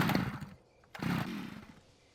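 Chainsaw in the game Scum, two short revving bursts of the engine with a brief drop in between, loud and close.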